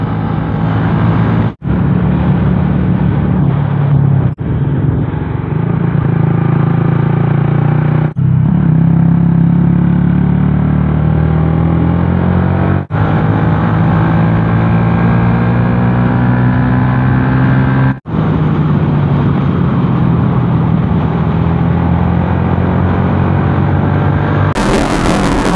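A motorcycle engine runs steadily and loudly close by, a constant idle rumble with a few brief dropouts, and no talk over it.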